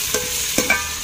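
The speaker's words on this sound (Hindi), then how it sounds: "टमाटरों को भी थोड़ी देर फ्राई करेंगे ताकि टमाटर अच्छी तरह नरम हो जाए" Tomatoes frying in a pan with browned onions, a soft steady sizzle with a few light stirring scrapes, close and without talk.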